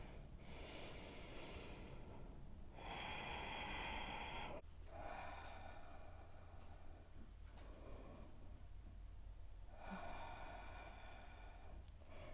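Steady, audible breathing of a person holding downward facing dog in a yoga session, broad airy inhale and exhale swells repeating every few seconds, close and fairly loud.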